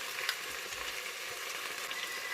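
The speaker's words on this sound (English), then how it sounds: "We're going to fry that paste off just like we're doing like a Thai yellow curry or a green curry." Rendang curry paste fries in a pan with a steady, fairly quiet sizzle and faint stirring, heard on its own without talk.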